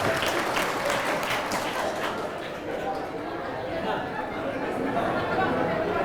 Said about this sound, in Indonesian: kalau mau tepuk tangan serentak, jangan satu-satu.